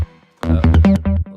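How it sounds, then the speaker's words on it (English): Screech bass from a music-theory breakdown of a track, synth bass layers built from animal-sourced oscillators: a quiet tonal lead-in, then loud harmonic-rich bass stabs in a choppy rhythm, heard alone without talking. "Then we have the screech bass"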